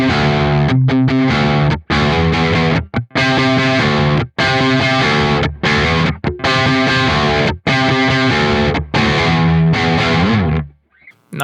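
Overdriven electric guitar through a Klon-style overdrive plays chunky chords in bursts with brief stops between, warm and crunchy, ringing out alone before fading at the end.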